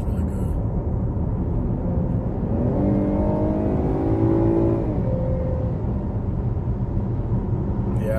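A 2019 Chevy Blazer SUV engine revs up as the vehicle accelerates, a steady close drone that climbs in pitch midway and then settles, with no talking.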